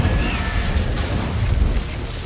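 An Incendio fire spell cast in Hogwarts Legacy lets out a loud, roaring whoosh of flame with a deep booming rumble, sustained and close for a couple of seconds.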